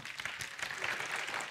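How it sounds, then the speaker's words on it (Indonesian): Church audience clapping hands during a sermon, a short burst of dense, soft clapping heard from a distance, fairly faint and steady. "there's so many clapping hands"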